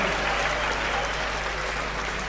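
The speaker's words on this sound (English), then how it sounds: "another round of applause for our distinguished speaker, Honorable Dr." An audience at a Ghanaian presidential campaign launch applauds the speaker, Honorable Dr. Owusu Afriyie Akoto, a brief wash of crowd clapping over a constant low hum.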